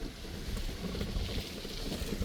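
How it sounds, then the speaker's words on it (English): A strong, dust-devil-like gust of wind roars steadily against the microphone on an outdoor property, a continuous loud rumble lasting the whole moment with a sharper buffet near the end. "Big old crazy wind right there, like a dust devil type of thing"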